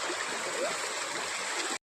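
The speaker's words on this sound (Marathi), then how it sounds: "हे बघा वाळेमध्ये पाणी आहे ना" Shallow stream water trickling over sand in a rural Konkan setting, a steady close rushing flow heard alone for nearly two seconds before cutting off abruptly.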